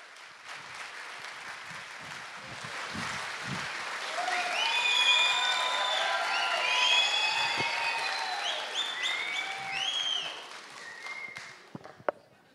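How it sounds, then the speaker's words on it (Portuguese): An audience at a stage hypnosis show applauds and cheers, clapping swelling to a full, sustained roar with whistles and whoops rising over it before fading out. "uma salva de palmas para os nossos astros!"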